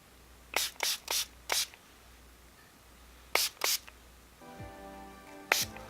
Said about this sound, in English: Take your spray bottle